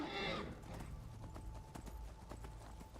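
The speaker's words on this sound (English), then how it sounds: "Where's my horse? There it is." Horse hooves clip-clop steadily in the Skyrim video game, a run of close, evenly spaced hoofbeats after a short burst at the start, with a brief whinny-like sound mixed in.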